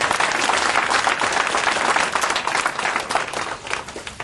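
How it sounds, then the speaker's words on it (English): Audience applause at a school assembly, a steady dense clapping that fills the whole stretch, loud and close with no voices on top. "Give him a clap."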